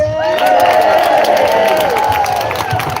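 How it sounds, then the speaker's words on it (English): An outdoor rally crowd applauds and cheers for a Badger Trust speaker, loud sustained clapping with whoops and shouted voices rising over it throughout. "Please give a massive round of applause to Nigel Palmer from the Badger Trust."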